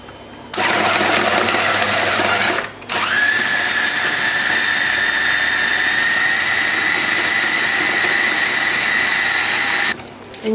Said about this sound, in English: we're just going to chuck all that in a food processor to make our mix